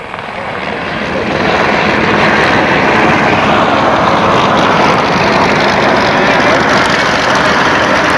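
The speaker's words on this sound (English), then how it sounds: "Here's Guido Zaccoli touching down right now in the big C Fury" A Hawker Sea Fury touches down during an air race, its big piston engine making a loud, steady roar that swells in the first second and then holds close and powerful, with a commentator's voice under it.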